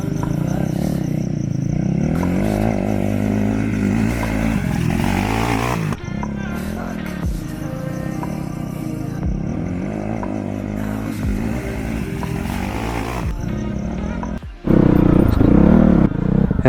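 A motorbike ploughs a field beside rice paddies, its engine droning steadily with shifting revs and clattering, then surging louder at the very end.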